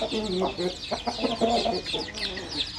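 Several chickens cluck and chatter close by in quick, overlapping bursts, with a rooster's voice among them.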